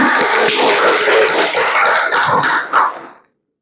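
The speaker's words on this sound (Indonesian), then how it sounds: "Tepuk tangan." A group claps hands in a classroom, a dense, lively burst of many overlapping claps that holds steady for about three seconds and then stops abruptly.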